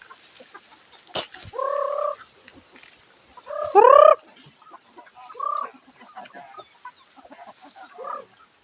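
Native Palawan chickens on a farm cluck and call in short bursts, with one louder, drawn-out crow-like squawk in the middle, over a quiet yard with scattered small noises.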